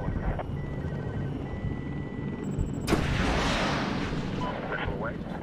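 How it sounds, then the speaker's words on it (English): Missile launch in a Medal of Honor game: a sudden loud roaring whoosh erupts midway and rumbles on as it fades, over steady engine drone and radio-style chatter. "Missile away."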